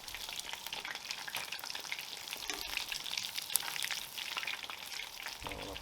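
Coconut shrimp deep-frying in hot oil, a steady dense crackling sizzle throughout with a few louder pops, close and continuous.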